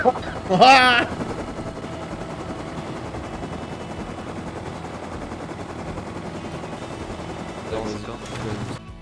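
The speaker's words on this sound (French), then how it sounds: "On a réussi à revenir avec un hélico" Helicopter rotor and engine drone in the video game Rust, a steady close whirring that runs throughout, with brief louder bursts near the start and end.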